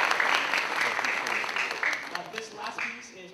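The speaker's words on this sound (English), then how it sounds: "a big round of applause for them for helping out" An audience at a high school band concert applauds, the clapping dense at first and thinning out, with a voice speaking over it toward the end.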